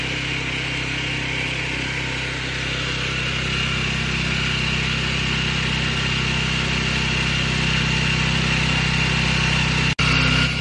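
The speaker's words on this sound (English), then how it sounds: "Turn on the gasoline engine." A gasoline engine driving a flour puffing machine runs at a steady, loud drone with a constant mechanical hum, close and unbroken apart from a brief dropout near the end.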